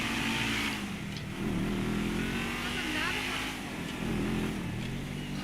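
A car engine in GTA 5 Online drones and revs in waves, rising and falling a few times, with someone talking over it.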